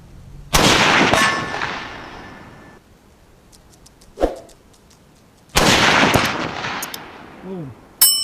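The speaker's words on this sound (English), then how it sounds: "take a couple shots at 200 yards" Two loud, sharp reports from a Savage Axis XP .308 Winchester hunting rifle fired at a 200-yard target outdoors, each followed by a long rolling echo, with a faint distant clang of the steel target between them.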